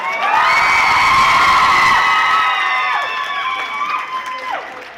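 A large crowd of children cheers and shouts at an outdoor opening ceremony, the roar swelling loud and continuous before gradually easing off, with some high whoops and calls carrying over it.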